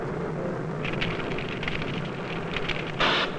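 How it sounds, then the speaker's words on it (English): A Hawaiian volcano erupts, with lava surging out amid smoke and steam. It produces a continuous, dense roar with crackling surges and a louder burst near the end, and no voices are heard. "A torrent of lava surged out of the smoke and steam."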